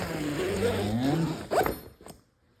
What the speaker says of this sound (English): I can zip that section up in there and tuck it away for future use